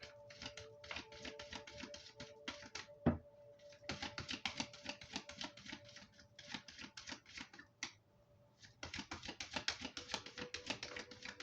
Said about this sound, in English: Pay attention to how my cards are shuffling.